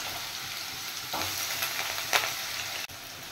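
Small-cut potato pieces fry in white oil in a pan, a soft, even sizzle with a few stirring clinks and scrapes, fairly quiet and without talking.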